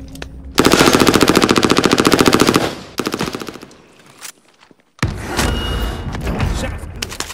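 Gunfire in the video game Warzone: a long rapid burst of automatic fire, a short second burst, then dense, loud shooting, all close.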